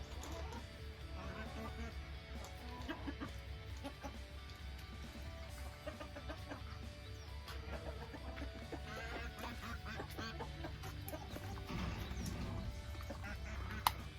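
Chickens in a farm coop, with dense overlapping clucks and squawks from several birds over steady low background noise, continuous for the whole stretch; a person talks faintly at times.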